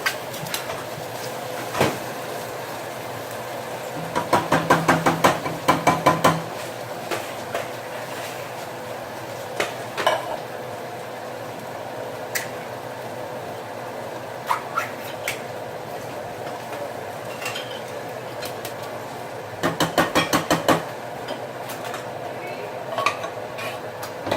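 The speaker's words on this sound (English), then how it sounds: "I'm going to add my cans of beans." Canned beans are added to a cooking pot and stirred for Puerto Rican red beans. A spoon scrapes and knocks against the pot in bursts of rapid metallic clatter, with scattered single clinks and low kitchen background between them.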